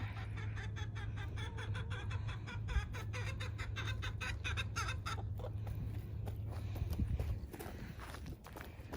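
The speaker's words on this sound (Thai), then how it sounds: "ลูกไก่สีขาวมาแล้ว ไก่สีขาว" Chickens and white chicks clucking and scratching about nearby on a farm, with a steady low hum and scattered soft footstep-like taps throughout.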